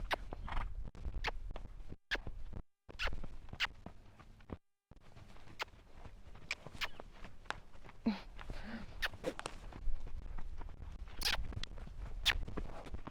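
A horse canters in a round pen, its hooves landing in a steady, repeating rhythm with soft thuds and scuffs from close by.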